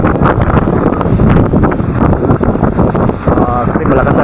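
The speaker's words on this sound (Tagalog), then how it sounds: "hangin at saka alon" Steady blustery wind buffets the microphone with a continuous roar, and water sloshes and splashes throughout, as if out on open water.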